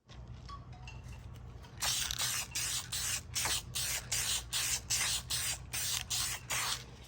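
An aerosol can sprays paint onto a Porsche 911 interior part in a series of about ten short, even bursts with brief pauses between them, close and fairly loud, preceded by faint handling noise.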